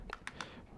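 Three quick, light key presses on a calculator, evenly spaced and faint, with a quiet room hum behind them.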